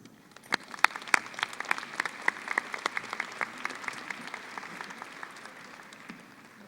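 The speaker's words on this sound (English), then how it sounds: "Let's welcome him with a round of applause." A graduation audience at Mountain View High School claps to welcome the interim principal, a steady run of applause with sharp individual claps that gradually thins out toward the end, moderately distant in a large hall.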